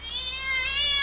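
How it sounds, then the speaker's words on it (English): House cat meows once, a drawn-out rising and wavering cry, while being shooed off a car. "Go on, cat. Scat."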